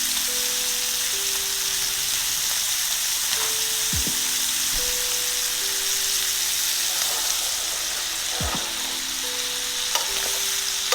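Butter and shallot sizzle and crackle steadily in a hot pan with T-bone steaks, a dense even frying hiss with occasional sharp pops and scrapes, close and loud with no talking.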